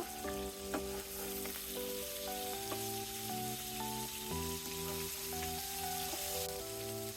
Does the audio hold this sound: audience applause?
no